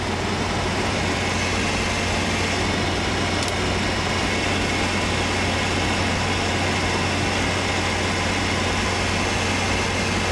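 A diesel engine in an Isuzu Pup pickup with a Greasecar waste vegetable oil conversion runs steadily during a purge back to diesel, a loud, even idle with a constant low throb and no talking.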